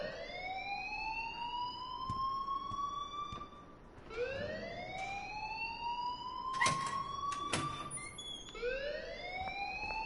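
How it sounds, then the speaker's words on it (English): Repeated rising electronic alarm tones from a fire alarm in the video game Life is Strange, each sweep climbing then restarting in a steady loop, loud and continuous, with a few sharp clicks between sweeps. "please turn off that alarm since that's your job"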